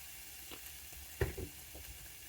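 Vegetables fry for fried rice as soy sauce goes in, giving a faint, steady sizzle with a brief louder splash and stirring scrape midway.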